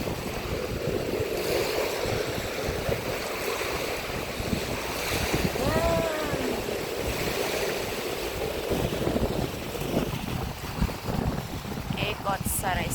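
Rough sea waves surge and wash continuously near the listener, a dense broadband roar with wind buffeting the microphone and brief faint tonal sounds in the middle.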